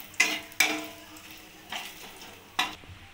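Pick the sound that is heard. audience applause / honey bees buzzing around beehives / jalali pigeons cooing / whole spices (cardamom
whole spices (cardamom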